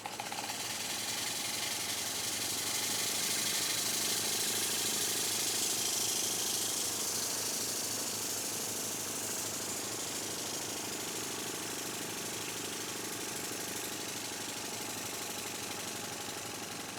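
A PM Research model steam engine in a small steam plant runs steadily at low speed, giving a continuous mechanical chuffing and rattling hum that stays loud and even throughout, with no talk.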